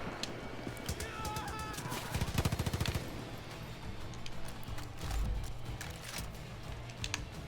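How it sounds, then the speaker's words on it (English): BP-2 assault rifle firing in the Far Cry Arcade shooter, rapid bursts of gunshots, with a fast rattling volley midway and scattered shots, amid busy game noise. "What is this gun called? The BP-2, right?"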